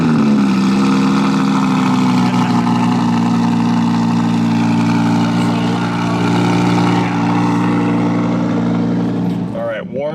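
A warm-started car engine idles steadily and close up, a low droning hum with a strong rumble, and voices talk over it throughout.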